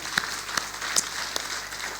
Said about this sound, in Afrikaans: Kom ons gee hulle lekker hande klap.